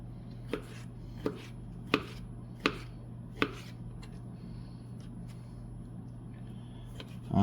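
Hand knife chopping an orange on a cutting board in a home kitchen, five sharp, evenly spaced thuds close up over a steady low hum.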